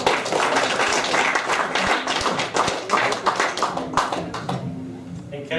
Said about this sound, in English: Round of applause for Nigel.